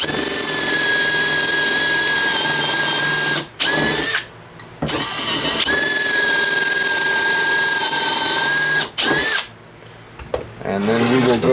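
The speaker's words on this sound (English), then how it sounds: "we're going to drill the two holes" A power drill boring pocket holes through a board clamped in a VEVOR pocket hole jig, two loud sustained whining runs with a brief pause between them, then a short rattle as it stops.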